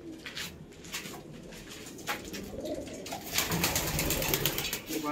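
Restless breeding pigeons, including a Regdar male and a red-flowered Regdar female, coo and flap while being handled at home, the low cooing mixing with sharp rustling wing bursts and a voice talking intermittently.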